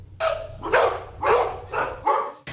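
Dogs at an animal shelter bark in a string of about five loud, close barks, evenly spaced, with no talking.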